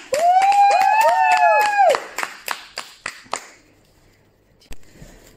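A church congregation at song rehearsal claps in rhythm, sharp hand claps under a sung line that then fade into a few spaced claps.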